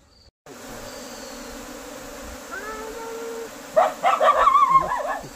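A newly arrived swarm of bees makes a low steady drone outdoors, and a dog whines and yelps close by toward the end.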